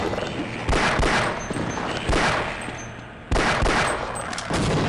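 Pistol fire in the video game Half-Life, a handful of sharp reports spaced a second or so apart over a busy game backdrop, each shot loud and close.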